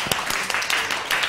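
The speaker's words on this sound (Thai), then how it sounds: "ปรบมือให้เพื่อนหน่อยค่ะ" Classroom students clap for a classmate, a short burst of scattered, uneven claps close by.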